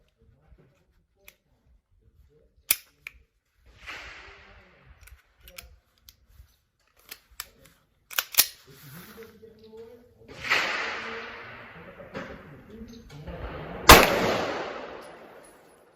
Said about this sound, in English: Third round fired.